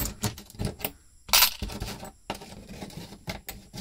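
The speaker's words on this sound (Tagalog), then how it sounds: "Dami kong barya." Coins clink and jingle as they are handled and dropped at a small shop counter, with a bright metallic clatter in the middle among repeated short taps and rattles, close and without talk.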